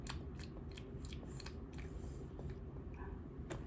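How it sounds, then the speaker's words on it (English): Someone chews an apple close by with soft, crisp, rhythmic crunches. The bites come steadily over a quiet background. "Somebody who has little teeth and who's chewing an apple right now."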